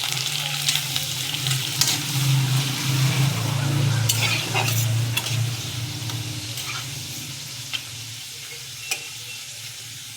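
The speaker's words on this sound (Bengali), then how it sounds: "এবার আমি চিপসগুলোকে দিয়ে দেব।" Homemade potato chips fry in hot oil in a wok, a dense close sizzle that is strongest early and then eases, broken by occasional sharp clicks of a utensil stirring.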